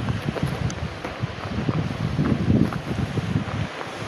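Wind gusts through the bottom of a valley in the Drôme, buffeting the microphone with a continuous, rough low roar that rises and falls but never stops.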